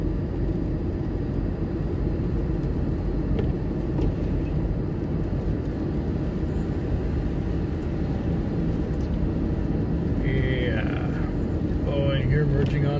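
A taxi drives onto a highway among other cars, its steady engine and road rumble droning loudly and continuously throughout, with a voice speaking over it near the end.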